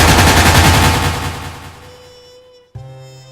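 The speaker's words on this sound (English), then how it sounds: "Can Jack and Bud find shelter from this firefight" Gunfire in a firefight from an audio drama: a loud, dense burst of rapid shots fades out over about two seconds, then a single sharp report rings on after a brief silence.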